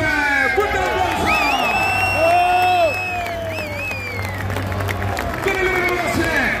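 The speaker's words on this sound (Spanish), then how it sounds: "¡Fuerte aplauso!" A crowd at a Bolívar football club team presentation cheers and claps in a lively mix of shouts and whistles, while an announcer's amplified voice carries over the stands.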